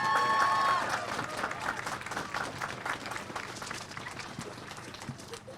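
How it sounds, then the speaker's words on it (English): A crowd at an outdoor Christmas tree lighting in North Haven claps steadily, the applause loudest at first and then gradually thinning, with a few cheers early on. "Let's give them a round of applause."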